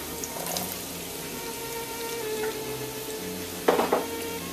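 Onions and mushrooms fry in plenty of olive oil for veal Marsala, a steady low sizzle running throughout with a brief louder crackle and clatter near the end as they are stirred.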